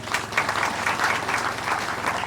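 An audience at a school patronal feast bursts into steady, close applause acclaiming Jesus Christ, a dense patter of many hands clapping continuously for over two seconds.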